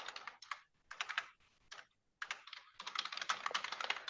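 Fingers typing on a computer keyboard in quick bursts of clicky keystrokes, pausing briefly between phrases, close and clear with no talking.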